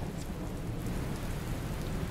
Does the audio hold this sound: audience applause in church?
no